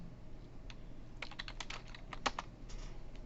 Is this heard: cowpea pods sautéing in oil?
no